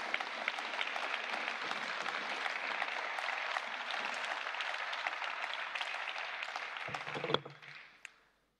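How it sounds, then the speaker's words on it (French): A crowd in the European Parliament applauds steadily and loudly during the EU State of the Union address, the clapping holding even before tapering off abruptly near the end. "Merci d'applaudir"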